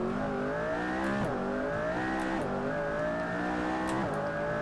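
A McLaren P1 in the Assetto Corsa racing game revs hard, its engine note climbing through the gears with sharp drops at each of about four shifts, loud and steady with no talk over it.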